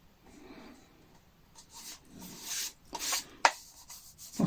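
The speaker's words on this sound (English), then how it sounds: "I'm just going to rub off bits of glue there." Dried glue residue is rubbed off exposed wood by hand, producing soft, irregular scraping and brushing strokes that build to a few sharper scuffs near the end, close and quiet.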